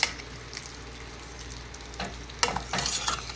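Chicken and broccoli are stirred in a hot pan, with a steady close sizzle of frying underneath and a few louder scraping stirs toward the end.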